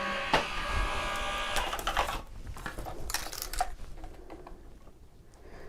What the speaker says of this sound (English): Just using my die cutting machine off to the side here.